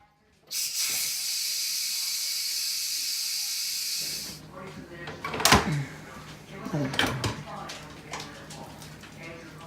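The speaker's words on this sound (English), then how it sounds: "we have to let it sit for 2 minutes and then we can release the steam" Steam hissing out of an Instant Pot pressure release valve, a loud steady hiss for about four seconds, then bumps and handling clatter with a voice speaking.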